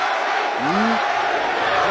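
Boxing arena crowd at a Terry Norris versus Donald Curry championship fight, a loud massed roar with a rising chanted vocal swell from the audience, continuous and dense.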